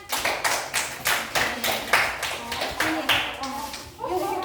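Schoolchildren in a fifth-grade classroom clap their hands together in a series of distinct, evenly spaced claps, roughly nine beats, with a few young voices faintly audible toward the end.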